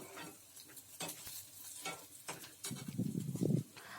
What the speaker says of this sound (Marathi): इथे आपण कांदा आणि लसूण, मिरची भाजून घेतोय